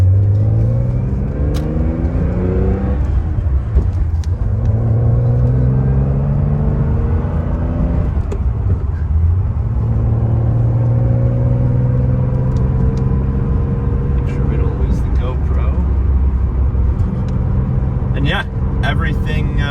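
A 1977 Porsche 911S Targa, engine not yet fully warm, driving on a rough road: a loud, steady engine rumble with rising and falling revs through gear changes and a few faint clicks near the end, while people talk.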